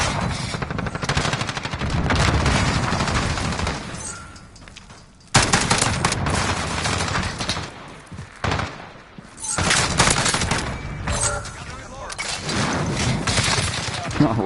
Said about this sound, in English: We're going to shoot a bullet and then reload and see what happens.